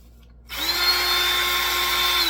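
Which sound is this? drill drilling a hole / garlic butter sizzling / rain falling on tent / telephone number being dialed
drill drilling a hole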